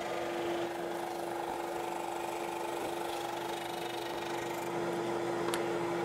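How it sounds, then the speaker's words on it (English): A steady mechanical drone of a drum sander sanding plywood, with a constant hum and a broad gritty hiss running unbroken from start to finish. "I'm using the drum sander"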